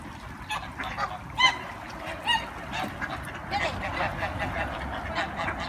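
Scattered goose honks ring out over a busy, noisy outdoor background with some faint voices.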